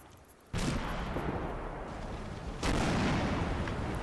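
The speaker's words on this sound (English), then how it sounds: "So those mortars start causing some damage." Mortar fire in the Combat Mission: Battle for Normandy game: two loud, booming blasts, the first near the start and the second about two seconds later, each followed by sustained rumbling.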